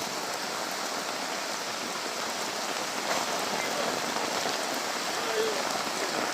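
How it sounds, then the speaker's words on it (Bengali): Heavy rain pours steadily during a flood in a town, a dense, continuous hiss of drops drumming on surfaces, close and unbroken throughout with no voices. "কি পরিমাণ বৃষ্টি!"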